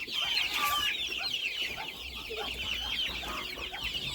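Young Cochin chickens cluck and cheep in a coop, with a busy mix of soft peeps and clucks at moderate distance, steady throughout.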